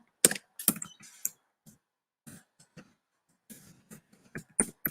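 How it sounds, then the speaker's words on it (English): Someone types on a computer keyboard in short, scattered bursts of clicky keystrokes separated by pauses, close by and moderately quiet, with no talking. "Let me type that out."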